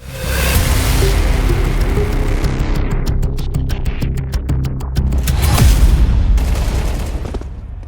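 Grenades explode amid a steady hail of rifle fire during a Counter-Strike match at a major tournament, a loud, continuous barrage of booms and rapid shots layered over one another for several seconds.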